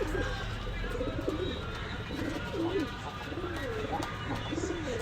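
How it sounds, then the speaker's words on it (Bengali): Pigeons at a pigeon shop, including cream-eyed birds, give soft repeated cooing calls over a steady background hum, close by and unhurried, with no talk. "একেবারে ক্রিম চোখের কবুতার"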